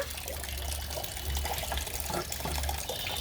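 Water pours and splashes steadily from a tap or mug while a child is bathed, a continuous close rushing trickle with small splashes and no talk.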